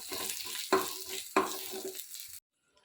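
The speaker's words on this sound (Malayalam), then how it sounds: "കടു വറുക്കുന്ന എണ്ണയിലേക്ക് ഒരു നുള്ള മുളക് പൊടി ഇട്ട് കൊടുക്കുക" Oil sizzles and crackles steadily for a couple of seconds with two sharp bursts of spitting as chilli powder goes into hot oil with popped mustard seeds, then cuts off abruptly into silence.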